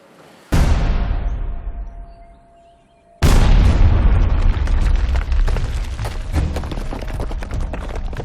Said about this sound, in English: That stupid explosion.